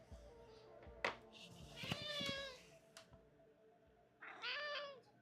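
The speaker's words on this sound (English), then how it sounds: "Oh yeah, I hear a cat." A house cat meows several times, loud and close, with clear drawn-out calls near the middle and again at the end, separated by quieter room noise.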